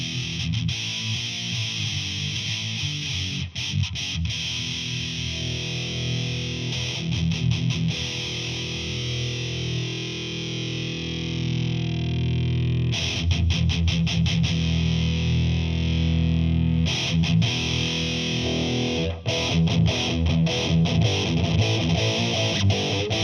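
Distorted electric guitar riffing through an EQ pedal with the mids cut, giving a thin, hollow tone lacking body, chugging chords alternating with sustained notes, loud and alone.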